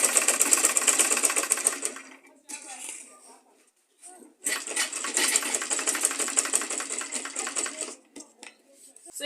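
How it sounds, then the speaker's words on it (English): A sewing machine stitching a fabric tote bag, a fast buzzing whir that runs steadily, pauses briefly, then resumes for a longer stretch, close and fairly loud with speech heard around it. "Then you continue sewing."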